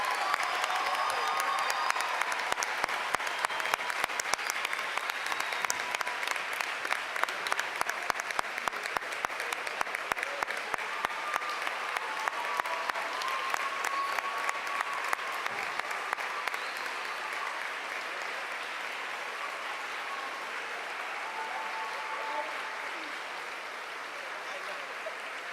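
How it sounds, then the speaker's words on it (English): Large audience applause for lieutenant governors at a district conference closing ceremony, sustained rhythmic clapping in a big hall that gradually thins and softens over about twenty-five seconds, with faint voices beneath. "Give them a round of applause"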